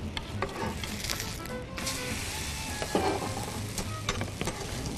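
Mustard greens for sarson ka saag cook in butter, giving a continuous close sizzle with stirring and occasional soft pops, no one speaking.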